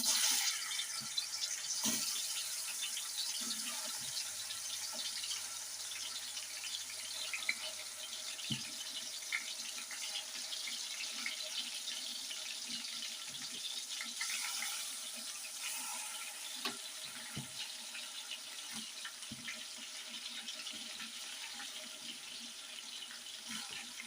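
Fish pieces slide into hot oil for a Telangana-style fish curry, giving a steady, close, broadband sizzle and hiss that runs unbroken throughout, with no voices.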